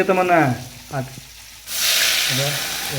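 Masala frying in oil gives a steady, bright sizzle that comes in partway through and runs to the end, with brief speech before it starts and voices over the sizzle near the end.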